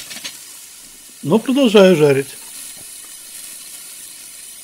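Champignon mushrooms and vegetables fry in olive oil in a pan, giving a soft, steady sizzle throughout, with a short spoken phrase over it partway through.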